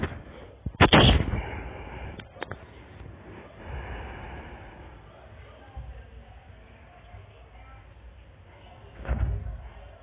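Weapon gunfire in a video game: a loud burst of shots near the start, a sharp single report a moment later, and another burst near the end, over a low rumbling game background.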